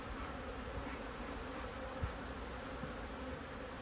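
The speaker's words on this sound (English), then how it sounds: "Well, there's so many bees in here." Honey bees hum continuously inside a hive topped with a honey super, a dense, even buzz heard close up with no voices.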